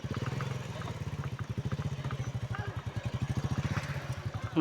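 A motorcycle engine putters with a fast, even thumping rhythm, running steadily nearby before a brief louder burst at the end.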